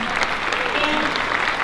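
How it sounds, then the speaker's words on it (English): Dense, lively applause from attendees at a Yu-Ai Kai 49th anniversary fundraising event, a brief burst of close clapping with a faint murmur of voices underneath. "And give them another round of applause."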